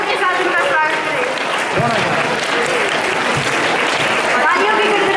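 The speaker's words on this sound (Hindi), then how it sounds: "अपनी अपनी जगह पर खड़े होकर तालियों के साथ उनका स्वागत करें।" Standing audience at a school annual function clapping continuously to welcome the chief guest, a thick even roar of applause throughout, with scattered shouts and voices mixed in.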